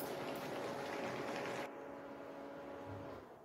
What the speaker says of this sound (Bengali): এটা এখন আমি জল ঝাড়িয়ে নেব।